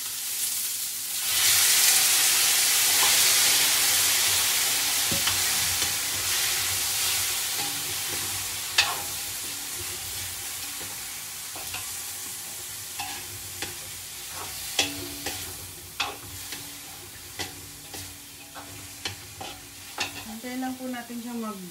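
Pork frying with golden brown onion in a pan, a loud hiss that flares up as the meat goes in and slowly settles, with frequent clinks and scrapes of a spoon stirring.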